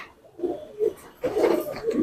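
Old-breed Tonk pigeons in a loft in Aurangabad cooing close by, a few soft throaty coos in short bursts, the last ones longer and fuller, with no talk over them.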